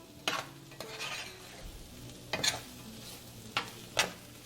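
Potatoes fry in a pan, sizzling steadily while a utensil stirs and scrapes them around in several sharp, separate strokes, with no talking.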